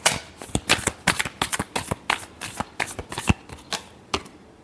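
A deck of tarot cards is riffled and shuffled up close in a quick series of crisp, fluttering bursts and snaps, with no one talking.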